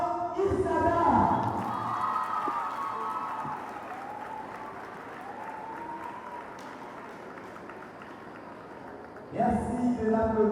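An audience at a university graduation ceremony claps and cheers steadily, with voices calling out at the start and near the end over the applause.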